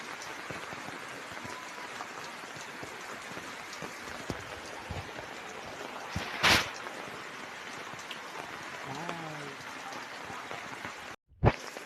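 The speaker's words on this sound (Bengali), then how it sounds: "বাড়িতে বৃষ্টি হচ্ছে প্রচুর" Heavy rain pours down steadily around a village house, a dense unbroken hiss of drops with a brief loud knock midway and a sudden cut near the end.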